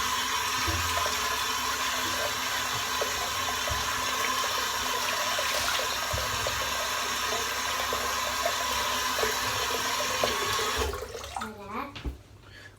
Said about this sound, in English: Just going to empty this water out first because it's full of hair now.